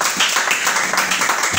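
Congregation applauding during a church service, dense continuous clapping filling the room, close and loud with no gaps.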